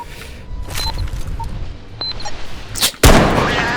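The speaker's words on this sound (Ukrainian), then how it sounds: "Я йому гранату ще." A grenade detonates in the realistic shooter game Bodycam: quiet ambience with faint ticks gives way to one sudden, loud, close blast near the end, followed by a sustained rumbling decay.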